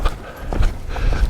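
A horse's hooves thud and clop on the ground as the horse is turned around beside a fence, several close, uneven steps in quick succession with no talking.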